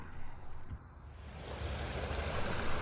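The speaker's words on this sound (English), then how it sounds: "Our creek can't get much higher than this, so we've got a good amount coming down." A swollen creek flowing after overnight rain, a steady broadband rush of water that grows fuller and louder toward the end, with no voices.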